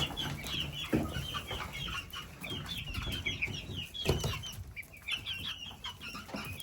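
Roosters cluck softly in a coop on a hot day, with scattered bird calls, shuffling and rustling throughout.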